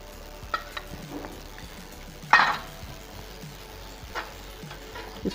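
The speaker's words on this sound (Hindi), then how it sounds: "इसको मिक्स कर लेंगे" A spoon stirs a masala of onions, ginger-garlic paste and a splash of water in a pot, with soft scraping and faint sizzling and one louder clink of utensil against the pot midway.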